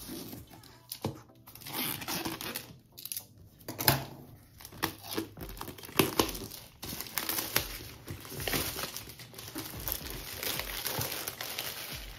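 Packaging of an XGIMI Halo portable 1080p projector being opened, with continuous close crinkling, rustling and crackling of plastic and cardboard, uneven bursts throughout.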